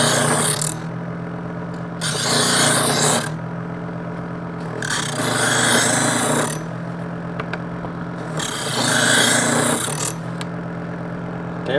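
A Homly electric knife sharpener hums steadily while a metal knife is drawn through it in repeated strokes, each pass adding a louder rasping grind roughly every two to three seconds.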